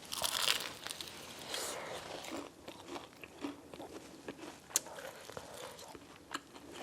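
Close crunching bites and chewing on fried KFC chicken, crackly and irregular with sharp crisp snaps over several seconds, no talking.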